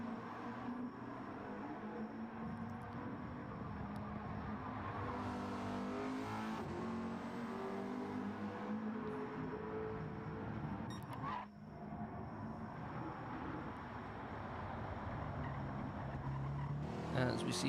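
Race cars lapping the Nürburgring GP circuit in Gran Turismo 7, including front-wheel-drive cars, a steady dense engine drone with layered revs from several cars at once, continuous and fairly loud throughout with a brief dip midway.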